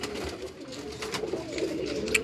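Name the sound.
female Firozpuri pigeon cooing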